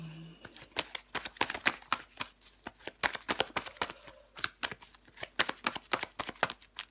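Tarot cards are shuffled by hand, making a soft, busy run of quick flicking and riffling clicks that go on steadily, with no speech.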